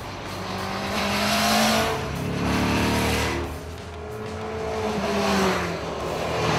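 A touring motorcycle rides along a winding road, its engine droning and rising and falling in pitch through the bends, with steady wind rush throughout and no talking.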